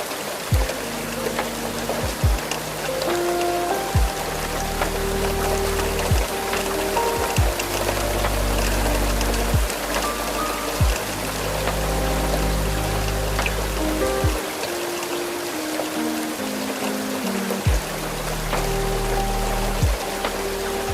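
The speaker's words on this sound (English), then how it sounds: "It mingles with the sound of the rain on the glass" Heavy rain patters on the glass of a train window during a night journey through the Scottish Highlands. The rain is a steady wash under slow, soft piano-like tones, with no voices.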